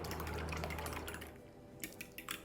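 Whisking egg mixture with bouillon in a bowl, a steady scraping, ticking stir for over a second, then a few faint separate taps and clinks near the end.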